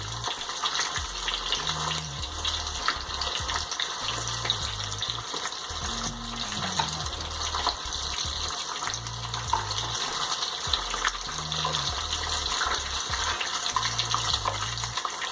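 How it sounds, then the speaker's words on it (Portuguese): Cheese sticks breaded in Cheetos crumbs frying in oil make a continuous rushing, bubbling sizzle, with low rhythmic hum-like tones underneath and no talk. "Deixa fritar, vai ficar douradinho."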